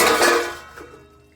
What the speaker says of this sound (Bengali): এখন ঢেকে রাখবো কিছু সময়